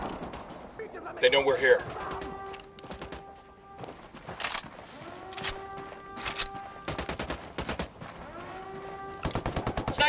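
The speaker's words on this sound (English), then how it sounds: "opening fire" Bursts of automatic gunfire and single shots crack repeatedly through a firefight in the video game Ghost Recon Wildlands, loud and close, with voices speaking over the shooting.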